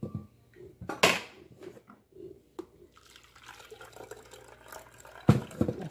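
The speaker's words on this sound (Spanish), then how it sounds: "vamos a seguir colando nuestra mezcla de sandía" Watermelon mixture is strained into a jug in a home kitchen while making agua de sandía, with liquid pouring and splashing in bursts, a few sharp clinks, and a louder splash near the end.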